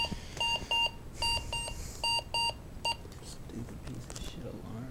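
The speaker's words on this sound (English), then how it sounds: "Stupid piece of shit alarm." An alarm clock beeps in short, sharp bursts in an untidy room the morning after a house party, repeating in quick pairs before stopping as a groggy voice grumbles.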